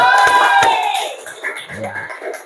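Classroom applause at a vocational high school math lesson, a short burst of scattered student clapping with some shouts, fading quickly into quieter murmuring.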